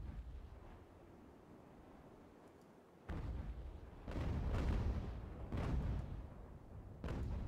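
Ship cannon fire in Ultimate Admiral: Age of Sail, an age-of-sail naval battle game: a sudden loud boom followed by several more heavy, rumbling cannon blasts spaced about a second apart, with no talking.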